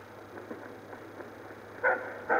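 A dog in Dishonored barks twice in short, fairly close yaps near the end, preceded by softer scuffling sounds against a low steady game ambience.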